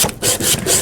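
Close, rough sanding on wood while restoring an arcade cabinet, heard as a few quick back-and-forth rasping strokes with no talking.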